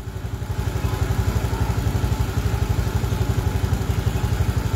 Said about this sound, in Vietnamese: Chúng ta nổ máy kéo ga hết vận tốc